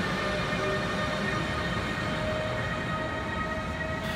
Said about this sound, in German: Der Eurocity Wawel begann seine Fahrt am Berliner Hauptbahnhof.